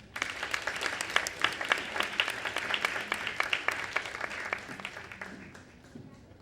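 At an annual graduates' gala, the audience applauds a high school graduate admitted to criminology; scattered, moderately loud individual claps come through clearly, then slowly fade out.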